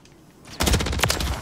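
Rapid single-tap gunfire in Call of Duty: Modern Warfare 3 ranked Control, a burst of sharp close shots cracking in quick succession after a quieter lead-in.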